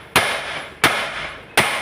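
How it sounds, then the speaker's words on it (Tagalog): Hammer blows on a Toyota tie rod end while it is being removed from the steering rack end, three sharp metallic strikes spaced evenly about 0.7 seconds apart, loud and close with no talking. "Tingnan nyo guys mabuti kung paano guys mapukpok ng martilyo yan."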